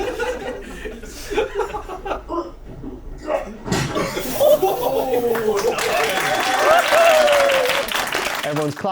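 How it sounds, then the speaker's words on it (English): An audience breaks into clapping mixed with chuckles and laughter about halfway through, swelling into steady applause after a stretch of talk and muffled voices. "Everyone's clapping when Matt Tonks gets punched"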